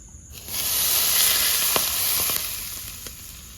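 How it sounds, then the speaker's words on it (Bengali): Steady, loud sizzling of hot oil poured over green chillies, a bright continuous hiss with a few sharp crackles and pops, no voices. "চারটে কাঁচা লঙ্কা দিয়ে দেবো গরম তেল"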